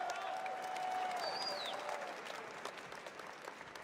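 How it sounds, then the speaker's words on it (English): Audience applause at a fighting-game esports event, a steady wash of many hands clapping that fades slightly toward the end, with faint crowd murmur beneath. "And you guys can clap for the man."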